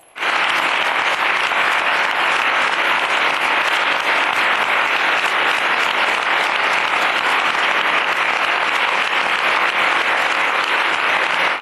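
Sustained, dense applause from a large crowd, steady and loud throughout with no pauses.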